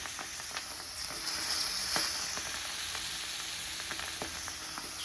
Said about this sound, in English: Chuck our sausages on our hot plate, and we'll chuck our lamb on the grill.